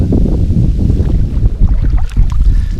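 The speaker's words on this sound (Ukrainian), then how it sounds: "Заважає дуже вітер, зноса з якоря." Steady, loud wind buffeting the microphone in a continuous low roar while fishing from an anchored boat on the Psel River in autumn, with faint water lapping and small knocks underneath.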